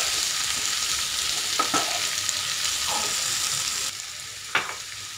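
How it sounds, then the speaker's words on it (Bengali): A Bengali-style dry mix of potato, cauliflower and carrot, seasoned with turmeric, chilli powder and cumin powder, sizzles steadily in a pan. A few distinct spatula scrapes stir through it. "ভালো করে নেড়ে নিব।"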